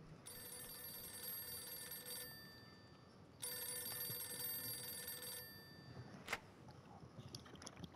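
A telephone rings in two long bursts of a bright, bell-like tone in a Mafia II game scene, with a quiet pause between rings and a sharp click near the end.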